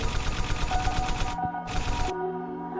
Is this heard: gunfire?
yes